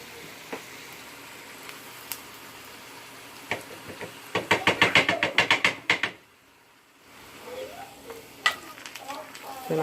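A beef taco fries in a pan, a low sizzle running underneath while a burst of quick scraping knocks and turning sounds cuts in near the middle, with someone talking over parts of it.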